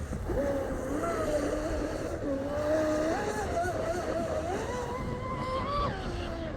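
An RC speedboat, a Blackjack 42 with a TP Power 5660 motor and a Castle Creations Cobra ESC, runs on open water with a whining electric motor pitch that rises and falls, heard from a moderate distance over wind noise.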